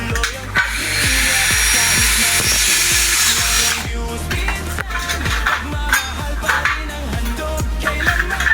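A power drill whirs loudly in sustained bursts while kitchen windows are assembled, with rhythmic knocking and rattling from the work between runs.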